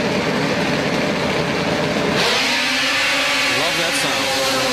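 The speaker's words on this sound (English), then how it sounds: "these are the big bore mod sleds, 800cc, heavily modified engines and chassis" Heavily modified 800cc big-bore snowmobiles launch off the start at a 2002 snocross race, a loud, continuous roar of many engines that swells and rises in pitch as they accelerate, with crowd or commentary noise mixed in.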